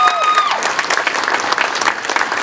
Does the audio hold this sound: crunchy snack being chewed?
no